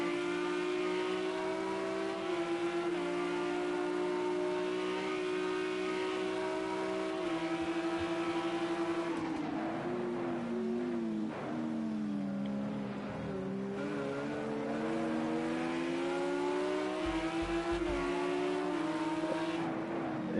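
GT3 race cars lapping the Nürburgring in a sim racing game, a sustained engine wail that rises through gears, drops on braking and climbs again, loud and continuous with a brief tire squeal.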